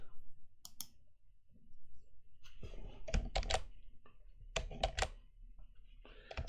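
Keys on a computer keyboard are pressed while modeling in Blender, producing a few crisp close clicks in two small clusters over a quiet room, with no talking.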